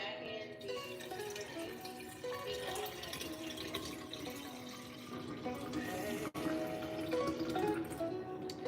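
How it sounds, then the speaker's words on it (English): Filtered water runs steadily from a refrigerator's automatic dispenser into an empty pitcher, making a soft, continuous trickling fill with a brief clunk partway through, fairly quiet and close. "when I put this pitcher back in the refrigerator empty, it will automatically refill with filtered water"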